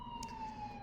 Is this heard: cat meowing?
no